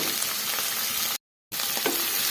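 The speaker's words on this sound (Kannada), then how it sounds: "ಒಂದು 5 ನಿಮಿಷ ಫ್ರೈ ಮಾಡ್ಕೊಳ್ಳೋಣ." Gojju ingredients frying in a pan, a steady dense sizzle throughout, briefly cut off by a moment of silence midway, with no talking.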